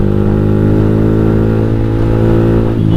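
Motorcycle fitted with a JB159 trioval exhaust revs steadily up close, a loud, deep continuous engine drone with a throaty, muffled tone throughout.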